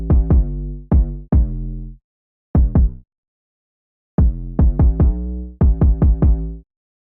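Deep 808 bass layered with a punchy kick in a hip hop beat, sounding in short rhythmic bursts with brief gaps, loud and up front with no voices.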